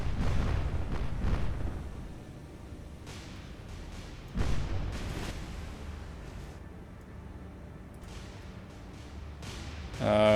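Naval gunfire and shell explosions rumble in the naval combat game War on the Sea. Deep booms hit at about 0.5, 4.4 and 10.2 seconds over a steady low roar of battle, with no talk.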